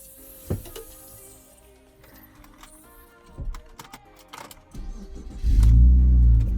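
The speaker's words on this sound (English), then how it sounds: "Oh, that engine roar." A car fitted with a straight pipe exhaust starts up and roars loudly in the final second. Before that come scattered clicks and rustling, and there is no talk.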